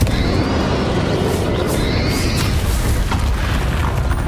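A Confringo spell explosion in Hogwarts Legacy, a loud, rumbling boom with a dense, sustained blast of noise that stays heavy throughout.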